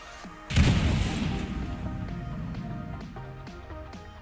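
A size 3 missile strikes the Dragonfly ship in a space-combat video game, bursting with a loud boom and crash that decays into a rumbling tail, followed by several faint, regularly spaced clicks.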